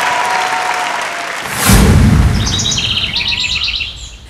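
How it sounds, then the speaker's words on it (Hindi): Applause welcomes a performer on a TV dance competition stage, a crowd clapping that swells after a sudden boom-like burst, with chirpy sound effects layered over the clapping. "जोरदार ताली से स्वागत कर लियो अमित कुमार के"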